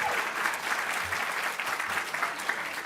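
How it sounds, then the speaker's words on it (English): An awards ceremony crowd applauds steadily, dense clapping filling the room without pause for the whole stretch. "a huge round of applause to all of our teachers one last time."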